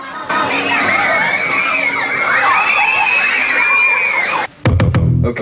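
Children shriek and scream excitedly together at a Songkran festival event, loud and sustained, ending with a few sharp knocks and bumps.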